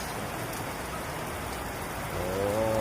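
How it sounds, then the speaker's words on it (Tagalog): Heavy afternoon rain pouring down in a steady dense hiss, close and loud, growing a little stronger toward the end, with no talking. "Yan, umulan na. Umulan na ang hapon. Oh, lakas."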